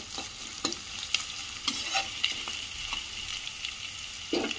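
A cup of chopped onions fries in a pan for kakarikaya fry, a steady close sizzle broken by several sharp clatters of a spoon stirring against the metal, with no talking.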